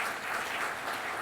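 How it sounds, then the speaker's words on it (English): Brief burst of audience clapping at a conference session, a dense even patter from a seated crowd with no voices over it. "Can we have a round of applause for Shri A.D. Sao for chairing this session?"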